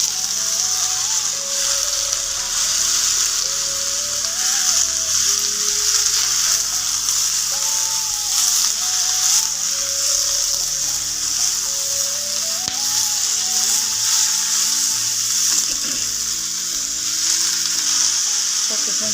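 Tomatoes sauté in a pan for a mixed sprouts masala curry, giving a steady, close sizzle that runs the full length. A faint melodic tone wavers underneath.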